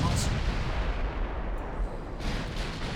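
Main guns of a battlecruiser firing in the naval warfare game Ultimate Admiral Dreadnoughts, a dense, continuous low boom and rumble filling the whole stretch, with faint talk mixed underneath.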